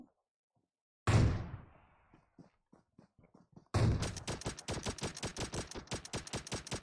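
Gunfire in the video game PUBG: one heavy shot that rings out and fades, then a few faint pops, followed by a rapid automatic burst of evenly spaced loud shots, with no talking.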